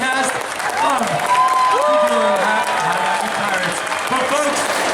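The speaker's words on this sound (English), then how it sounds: "Keep that round of applause going for the rest of the cast" A crowd at the Arizona State Fair claps for a show cast, with continuous applause mixed with cheering, whoops and voices throughout.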